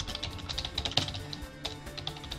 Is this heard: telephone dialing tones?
no